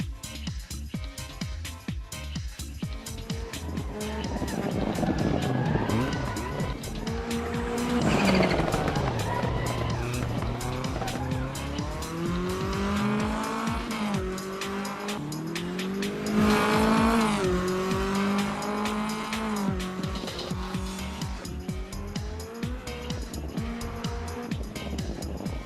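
A rally car races around a track in Assetto Corsa, its engine rising and falling through gear changes with loud revving, tire squeal on corners and steady close drive noise throughout, no talk.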